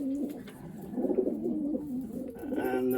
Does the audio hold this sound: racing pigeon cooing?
yes